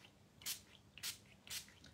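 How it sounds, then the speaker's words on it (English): Paint hisses from a spray can through a stencil in three short bursts spaced about half a second apart, close and fairly quiet, with no voices. "So I'm going to go backwards and forwards to spray."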